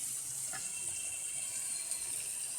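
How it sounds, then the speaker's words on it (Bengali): Water poured into a pot of browned chicken curry, a faint steady trickle and rush heard close with no talking. "এবার আমি জল দিয়ে দিচ্ছি।"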